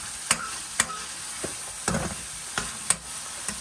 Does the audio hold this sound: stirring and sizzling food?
yes